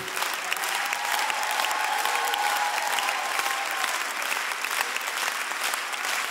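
Steady applause from a live concert audience in Los Angeles, honoring an Armenian singer, dense clapping sustained evenly throughout without a break.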